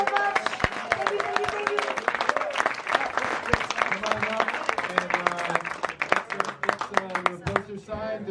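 An audience at an in-store music performance at a record shop claps and applauds steadily, a dense patter of hands filling the room, with voices mixed in underneath.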